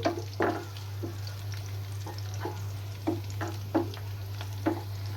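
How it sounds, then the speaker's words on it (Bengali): Onions frying in a pan with cumin and black cumin give a soft, steady sizzle, broken by several sharp scrapes of a spatula stirring them, over a constant low electrical hum. "পেঁয়াজগুলো আমি কিছুক্ষণ ভাজবো"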